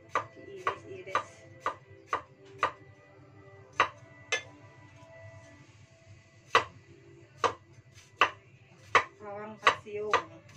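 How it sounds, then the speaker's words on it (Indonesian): Knife slicing through ingredients such as shallots and chilies for sambal, a series of sharp, close chops on a cutting board in an irregular rhythm, with a few quicker clusters of cuts. "Diiris-iris."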